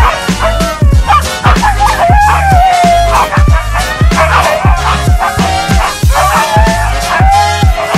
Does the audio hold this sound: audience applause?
no